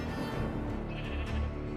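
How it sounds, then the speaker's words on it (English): Sheep bleating in the Minecraft game world, several animal calls blending into a steady, moderately loud wash with no voices over them. "All these sheep are making noise"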